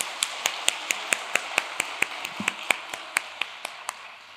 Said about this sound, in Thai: อยากให้ทุกคนปรบมือให้เขาอีกสักครั้งดีไหมครับ